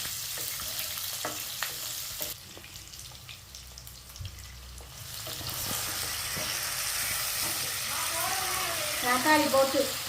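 Fennel seeds, cumin and small sambar onions frying in oil in a pan, giving a steady sizzle with scraping stir strokes throughout, louder and brighter toward the end, with some kitchen noise mixed in.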